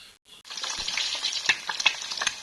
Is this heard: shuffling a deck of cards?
no